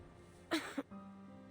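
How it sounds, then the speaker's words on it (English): A game character in Reverse: 1999 coughs in two short, close bursts, the first stronger and the second briefly after, over a quiet backdrop. "Why are we coughing?"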